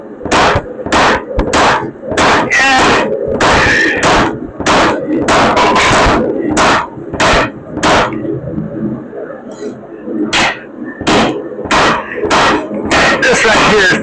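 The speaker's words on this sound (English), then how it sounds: "The heavy hammer's not much good if you can't control it." A heavy hammer strikes material over and over in close, loud, sharp blows, delivered in irregular rapid bursts with short pauses between them.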